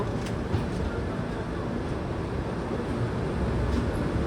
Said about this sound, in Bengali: আমাদের ট্রেন অর্থাৎ পদাতিক এক্সপ্রেস ডিপার্চার হয়ে গেল